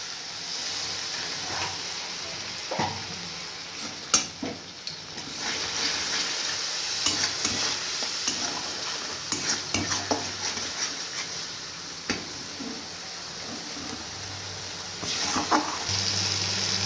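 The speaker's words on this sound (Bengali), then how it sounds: "কাশ্মীরি লাল লঙ্কার গুঁড়ো, অল্প একটু জল দিয়ে দেবো মশলাটা যাতে পুড়ে না যায়" A Kashmiri red chili powder masala, with a little water added, fries quietly in a pan for an egg potato curry. The soft, steady sizzle is dotted with occasional spoon scrapes and clinks, and no one talks.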